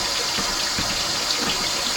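Warm water from a tap fills a small kitchen sink for a home beer-brewing kit, a steady close rushing gush with no one speaking.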